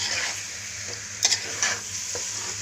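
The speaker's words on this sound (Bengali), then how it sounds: "আর এখন এই পর্যায়ে আম্মু হচ্ছে মশলাগুলো কষিয়ে নিচ্ছে।" Spices for broiler chicken curry sizzle steadily in a pan while a spatula scrapes and stirs, with a couple of brief louder clanks over the constant frying hiss, close up and with no talk.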